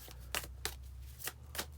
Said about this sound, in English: I'm just shuffling, folks.